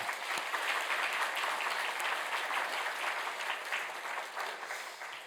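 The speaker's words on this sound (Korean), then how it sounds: "우리 모두 수고 많이 하셨다고 우리 격려의 박수 보내겠습니다" A church congregation claps in encouragement at a special Holy Week dawn prayer service. The steady, even applause fills the room and carries on for the whole stretch before tapering slightly at the end.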